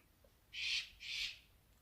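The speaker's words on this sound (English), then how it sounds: "You can hear that bird. It is what it is. It's a cockatoo." A cockatoo gives two harsh, drawn-out screeching calls in quick succession, each lasting about a quarter second, heard from some distance against a quiet indoor background.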